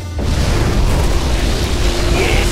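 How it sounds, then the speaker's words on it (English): A particle cannon strike from the real-time strategy game Command & Conquer Generals lands as a loud, sustained explosive boom with a rumbling low end, filling the whole moment without pause. "releasing particle cannon"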